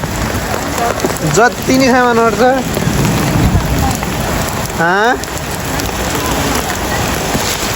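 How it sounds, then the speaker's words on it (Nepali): Steady rain pours down in a constant loud hiss, with people talking briefly over it. "पानी पर्यो।"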